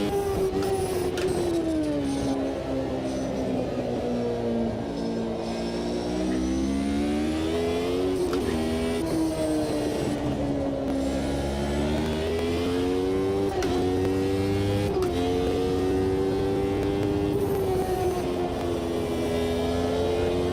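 A 1991 Ferrari V12 in the back of a Minardi Formula 1 car in Automobilista 2 at Spa-Francorchamps, a high continuous engine whine rising and falling through gear changes and revs for the whole stretch, loud and steady with no talk.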